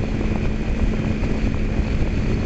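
An idling 2008 Kawasaki Ninja 250R engine runs steadily as it warms up, a continuous close drone with wind-buffeted noise and no change in pace.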